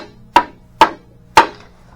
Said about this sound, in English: We'll give it a whack